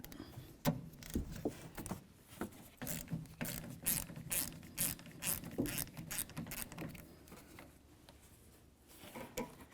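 Ratchet working a rusted 13mm nut off the wiper arm of a 1999-2007 Chevy Silverado, giving a run of quick clicking, creaking mechanical strokes, fairly close and without voices.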